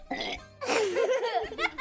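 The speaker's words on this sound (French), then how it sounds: "Tu fais un rototo." A drawn-out, throaty burp, loud and close, with short laughing sounds before and after it in a children's story.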